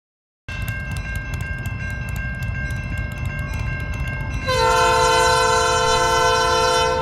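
A Canadian National EMD SD60 diesel freight locomotive idles in Upper Michigan with a steady low rumble and whining tones, then its engine swells louder and higher as it throttles up to move off.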